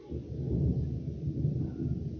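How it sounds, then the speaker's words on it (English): Thunder gives a steady low, muffled rumble that rolls on without a break, distant and fairly soft. "that thunder sounds good"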